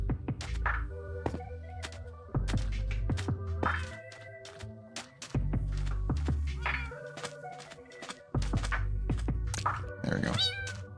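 Cats meow repeatedly in Minecraft Bedrock Edition, their short, clear calls recurring throughout over looping game music with steady low thumps.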